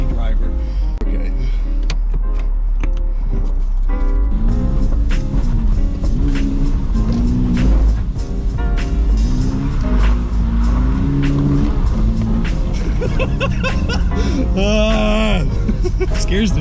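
A daily-driver car is driven hard, its engine revving and shifting in loud surges with tyre noise, while people talk and shout inside the cabin over it.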